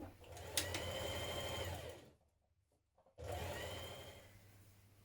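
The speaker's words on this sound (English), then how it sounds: "now we're going to stitch around the pockets, both pockets together" Sewing machine stitching around fabric pocket pieces for a skirt set, a close rapid mechanical whir in two runs separated by a brief pause of near silence.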